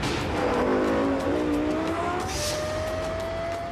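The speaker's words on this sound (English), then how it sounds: "And the sound of this high revving engine is unmistakable." A Lexus LFA's high-revving engine climbs in pitch with a rising whine, rev steps audible as it accelerates, loud and close with a faint tire squeal.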